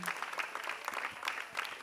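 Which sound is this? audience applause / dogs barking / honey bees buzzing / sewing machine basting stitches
audience applause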